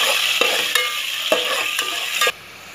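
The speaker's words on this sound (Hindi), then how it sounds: "देखिए ये भून रही है सारी चीज़ें" Ginger garlic paste and yogurt sauté in a hot pan with a steady bright sizzle, broken by several sharp stirring scrapes, before the frying hiss cuts off abruptly near the end.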